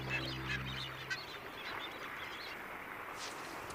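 Seabirds calling at a nesting colony on Bosunbird Island off Ascension Island, a mix of honking and squawking cries at a moderate distance over a windy background, fading toward the end.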